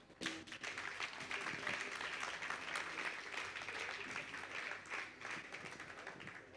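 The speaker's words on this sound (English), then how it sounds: "And another round of applause" A crowd applauds steadily at a Reggae University session in 2008, a dense patter of many hands clapping at once that holds throughout.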